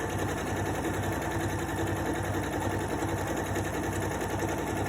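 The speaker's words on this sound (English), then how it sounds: "I sew along the bottom." A sewing machine runs steadily while stitching along the bottom edge of a fabric piece, its fast, even mechanical whir loud, close and unbroken for the whole stretch.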